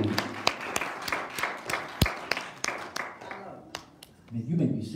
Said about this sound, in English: If you believe it, clap them hands and give God praise.